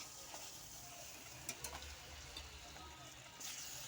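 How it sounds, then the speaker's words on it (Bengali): Fish fries in hot oil with a steady, dense sizzle throughout, broken by a few soft clicks and bumps from the pan. "তো তেল গরম হয়ে গেছে, তারপর দিয়ে দিচ্ছি মাছ"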